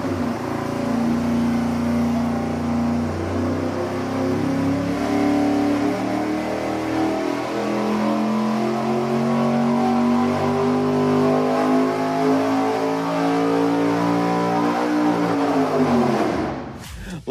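A 363 cubic inch engine fitted with a bellmouth runs on a dyno, its note climbing steadily through one long, loud pull before abruptly cutting off at the end.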